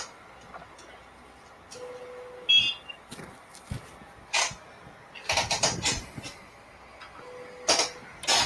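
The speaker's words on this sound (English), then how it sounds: "That's an any cubic sound, if I ever heard one." An Anycubic delta 3D printer runs a calibration routine, giving scattered ticks and clicks, quick bursts of motor whir and a couple of short buzzing tones.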